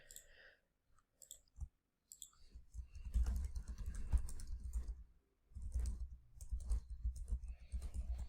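Keys clatter on a computer keyboard while text is entered in Notepad++, coming in quick bursts separated by short pauses and growing into denser runs of close clicking.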